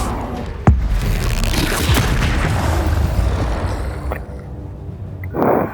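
Confringo fire spell in the video game Hogwarts Legacy, a sharp booming blast that hits at once and trails into a rumbling roar, followed by a second fainter thud and a closing swell.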